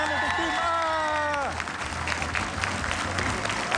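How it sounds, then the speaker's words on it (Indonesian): Audience applause for team A on an Indonesian quiz show, clapping rising after a brief musical sting at the start and continuing steadily with scattered cheers, a host's voice faintly underneath. "Tepuk tangan untuk tim A."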